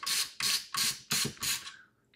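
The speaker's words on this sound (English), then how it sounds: "So take out these 4 screws really fast" Screws backed out of a UM890 Pro mini PC with a ratcheting screwdriver, several quick close clicking bursts in a row with no talk.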